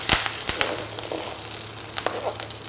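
Mustard seeds, cumin and green chillies hit heating oil in a pan, giving a steady crackling sizzle with a few sharp pops early on, close and moderately loud.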